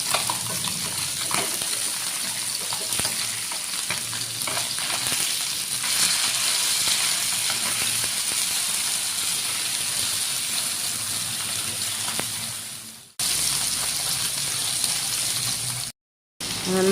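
Bata fish sizzling in hot oil in a frying pan, a steady dense hiss and crackle running continuously, close and fairly loud, with brief breaks near the end.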